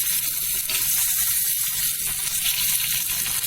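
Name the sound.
tempering spices crackling and frying in oil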